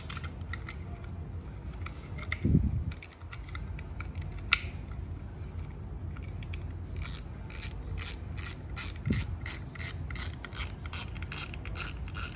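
A Penn Battle III 6000 spinning fishing reel cranked by hand gives a steady, close ratcheting whir of gears that runs on with a few sharp clicks and bumps, and no voice over it.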